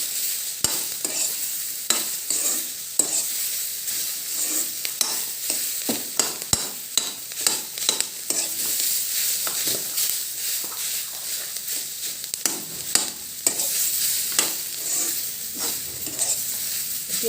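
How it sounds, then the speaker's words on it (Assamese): A fried mixture seasoned with amchur powder is stirred steadily in a pan, with repeated scraping knocks of the spoon over a constant close sizzle. "এতিয়া এইখিনি ভালদৰে লৰাব লাগিব।"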